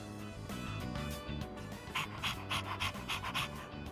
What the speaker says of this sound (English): You're walking your dog.